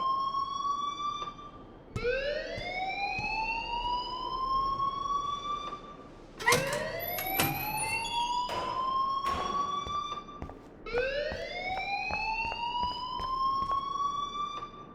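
A school alarm in the video game Life Is Strange wails in rising electronic sweeps, loud and close, three long upward-swooping tones repeating with a harsh overlapping burst in the middle.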